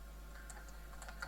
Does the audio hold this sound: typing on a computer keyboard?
yes